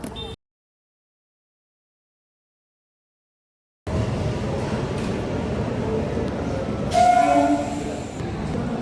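Train at a station, after a brief cut and silence, a steady rumble of rolling rail cars with a horn-like tone near the end, distant chatter in the background.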